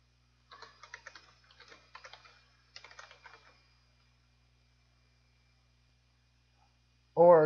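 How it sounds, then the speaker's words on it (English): Someone types on a computer keyboard in a short run of soft, quick key clicks for about three seconds, followed by a long silence and then a brief, loud burst of voice at the very end. "when we type text in here"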